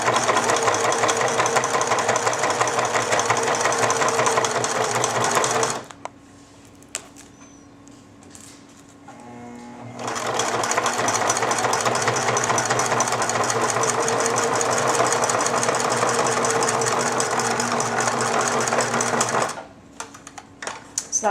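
A sewing machine stitches a Velcro seam on a reusable snack bag in long, loud, steady runs, pausing briefly in the middle before starting again and stopping near the end.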